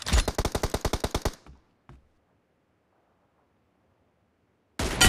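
Rapid automatic gunfire from a BGMI match: a loud burst of about a dozen evenly spaced shots, a lone distant crack after a pause, then another heavy burst cutting in at the end, with no talk.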